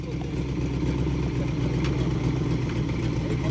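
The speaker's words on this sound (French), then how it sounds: "ça, le bruit du moteur, c'est fabuleux." A Porsche boxer engine runs during a 1992 Tour Auto road rally, a steady, loud mechanical drone with a slight clatter, held throughout while someone talks over it.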